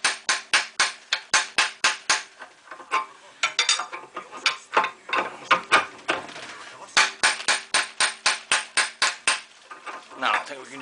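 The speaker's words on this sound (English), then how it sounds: "give the back of the bolt a whack, and it'll pop it as it goes along" A hammer strikes the back of a bolt on a 1997 Toyota front wheel bearing, ringing metallic blows landing in quick bursts of rapid hits with short pauses between volleys, close and sharp.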